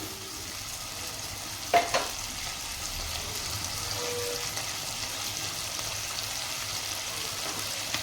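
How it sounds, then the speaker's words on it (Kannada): Tomato and okra fry with masala in a pan, giving a steady low sizzle throughout with a couple of brief clinks or stirring knocks near the start. "ಈಗ ನಾನೊಂದು ಟೊಮೆಟೊ ಹಾಕ್ತೀನಿ. ಇದೆಲ್ಲ ಚೆನ್ನಾಗಿ ಫ್ರೈ ಆಗಲಿ."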